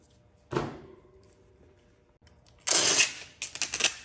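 A short rip, then a longer loud screeching pull of packing tape coming off the roll, followed by a few quick crinkly taps.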